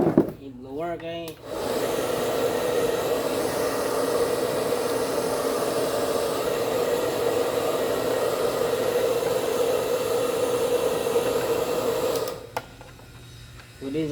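An electric air blower runs steadily during an Osterizer blender repair, a loud continuous rushing whoosh that starts after a brief moment and cuts off near the end, with a voice speaking briefly before it.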